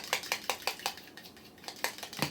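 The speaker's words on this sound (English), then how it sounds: "In here we have 2 eggs, and I'm going to whisk those together really quick" Two eggs whisked quickly in a bowl for homemade pumpkin waffles: a steady run of sharp, close utensil taps against the bowl, a brief pause midway, then the quick rhythmic strokes resume, with no talking.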